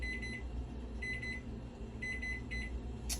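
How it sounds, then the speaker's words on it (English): Oven timer beeping in quick bursts of three or four high tones with short pauses between, over a low steady hum, after baking barbecue ribs. Fairly quiet, no speech. "so that's the alarm"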